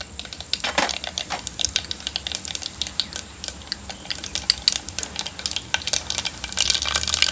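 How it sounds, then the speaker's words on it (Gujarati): Mustard seeds popping and sizzling in hot oil in a pan, a steady crackle of sharp, close ticks and spatters continuing throughout without talk. "તેલ ગરમ થઈ ગયું છે તો આપણે રાઈ નાખી દેવી."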